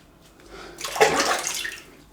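Cold tap water runs during rinsing after a shave, a close splashing rush that swells in about halfway through and keeps flowing to the end, with no voices.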